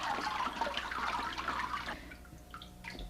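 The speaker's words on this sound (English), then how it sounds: "the water is draining, well, it's draining down through the bottom, and the fiber remains on the top on the screen" Water drains from freshly laid paper pulp down through a screen, leaving the fibre on top, a soft continuous trickle and splashy wash that thins out and quiets toward the end.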